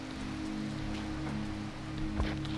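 Steady rain in a video game, a dense hiss of drops falling on surfaces that carries on through the whole stretch over a low, sustained game tone.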